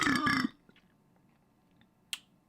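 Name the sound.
burp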